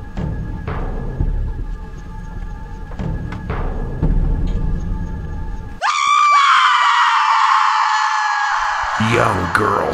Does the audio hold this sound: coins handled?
no